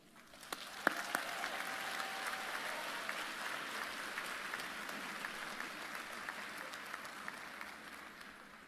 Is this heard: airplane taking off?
no